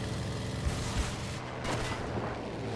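Machine-gun fire from a German BF109 fighter plane in the video game Battlefield V comes in dense bursts inside a constant roar of engine and combat noise, with a few sharper cracks standing out.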